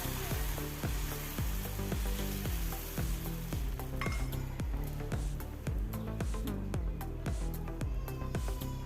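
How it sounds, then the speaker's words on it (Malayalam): Wheat dosa batter sizzles on a hot stone griddle, a loud steady crackle with rhythmic scraping or tapping strokes throughout, no voices. "ചൂടായി നമുക്ക് ഒഴിച്ച് കൊടുക്കാം മാവ് ഒഴിച്ച് ദോശ വരട്ടാം"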